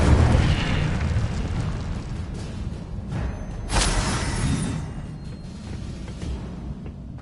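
In the Hogwarts Legacy video game, the Incendio fire spell is cast, giving a rushing whoosh that bursts into a loud fiery blast midway, then fades into a rumbling tail.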